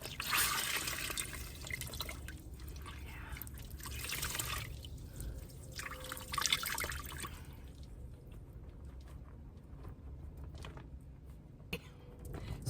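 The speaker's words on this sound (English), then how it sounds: "Now I'm going to wring it out." A wet cooling cloth being wrung out by hand, with water splashing and dripping in quick bursts early on, then quieter trickles and scattered drips close by.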